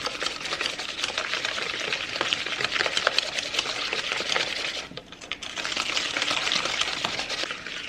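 A small whisk beats 50 g of sugar into egg yolks in a bowl, a dense, steady scraping and clicking that stays fast and even, with a brief lull midway.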